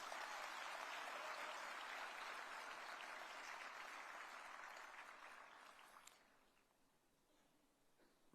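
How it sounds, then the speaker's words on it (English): A large audience at a technology and semiconductor summit in India breaks into sustained, dense applause that holds steady, then tapers off and dies away into near quiet. "Give a big round of applause for the entire team which has worked for it."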